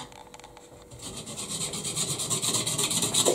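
A steel chisel scrapes and rasps against a surface during stairwell renovation work, a steady rough scraping that builds in loudness and continues without pause, close to the microphone.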